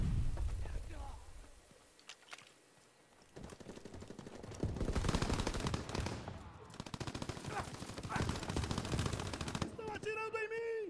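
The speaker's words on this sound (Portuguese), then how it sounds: "Estão atirando em mim." Rapid machine-gun fire in the World War II shooter Call of Duty: WWII, dense bursts of gunshots that continue for most of the stretch, with game sounds and a voice in the mix.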